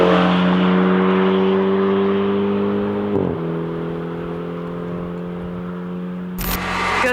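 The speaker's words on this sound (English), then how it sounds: "And here's how the B48 sounds from outside the car." A BMW B48 engine with an aftermarket exhaust idles outside with a low, steady exhaust burble, the engine note dipping briefly midway, then a sharp click near the end.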